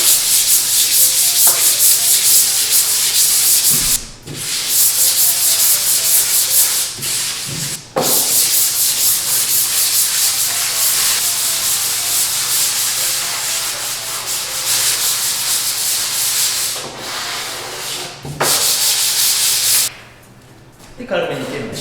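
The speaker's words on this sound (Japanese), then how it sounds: "で軽めに研磨しまして、表面のを取ります" Sandpaper rubs lightly across a chalk ground surface in long continuous strokes, a loud, close, hissing scrape broken by a few short pauses.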